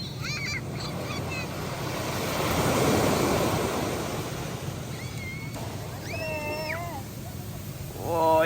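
Sea waves wash onto a beach on a sunny morning, a broad surging hiss that swells and recedes with wind rumble on the microphone, while birds or other high chirps call faintly in the background.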